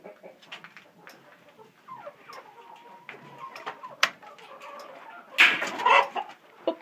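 A rooster in a barn at night crows and chatters intermittently, with soft clucks and a louder burst near the end as he gets spooked, all fairly close.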